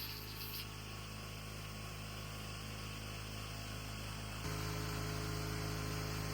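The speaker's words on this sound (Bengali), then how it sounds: "আপনারা যদি এই ধরনের ক্রাশার মেশিন নিতে চান" A herbal leaf powder crusher machine for grinding amla and haritaki runs with a steady, dense mechanical drone and hum, stepping up to a louder, fuller roar about two-thirds of the way through.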